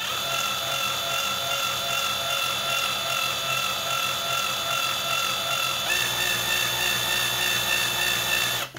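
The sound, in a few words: power drill drilling into the rivet of a plastic toy car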